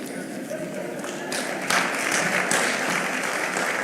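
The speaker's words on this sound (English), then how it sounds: "Another round of applause for Mr. Manuel Moses, CEO Atidi." An audience applauds at a 60th anniversary thanksgiving service attended by a president, a dense wash of clapping that swells partway through and stays steady, with some indistinct voices underneath.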